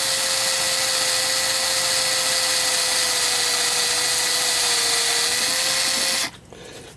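A 3.47 mm reamer in a power tool cuts a bushing hole in a Hubert Herr cuckoo clock plate, giving a steady, loud high whine that holds for about six seconds and then stops abruptly.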